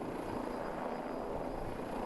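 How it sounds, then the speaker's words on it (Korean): A firefighting helicopter shuttles water from Gachang Dam in Daegu to a forest fire, its rotor and engine drone steady and fairly loud overhead with no voices. "대구 가창댐에서 물을 뜬 헬기가 쉴 새 없이 산불 현장을 오고 갑니다."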